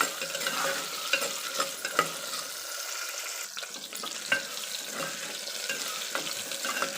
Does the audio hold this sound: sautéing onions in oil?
yes